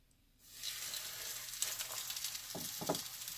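Turkey cutlets hit a pan over medium heat and burst into a loud, steady sizzle, with a few crackling pops near the end.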